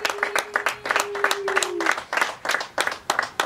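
Wedding guests clap in a loose, steady burst of applause at a small ceremony of about thirty people, with sharp rhythmic claps close by and a brief sustained tone under the first half.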